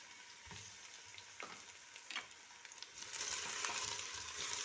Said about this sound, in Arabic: ونحطوا هذا الجناح تاعنا تاع الدجاج، خلوه يتقلب